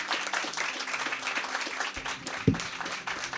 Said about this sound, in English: Applause for Micheline, please.